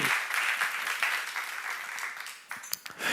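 A church seminar congregation applauds during a sermon, dense steady clapping that thins and trails off toward the end with a few stray claps.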